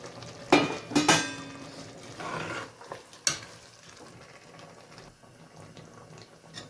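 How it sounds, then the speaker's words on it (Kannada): Yogurt goes into a hot pan of biryani masala with ginger-garlic paste, turmeric and tomato: a few close wet plops and scrapes, a short sizzle, then quieter stirring and bubbling. "ಮೊಸರು ಹಾಕ್ಕೊತಾ ಇದ್ದೀನಿ."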